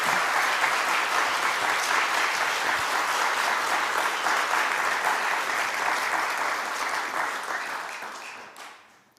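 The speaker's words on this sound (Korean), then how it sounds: "박수 한번 할까요?" A church congregation at a Sunday worship service claps in a full, steady round of applause that holds evenly, then fades out over the last seconds.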